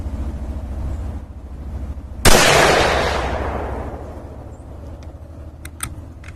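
A single sharp shot from a CZ 527 bolt-action rifle in 6.5 Grendel firing a 100-grain A-Max load, a loud crack with a long decaying echo outdoors, followed by faint clicks.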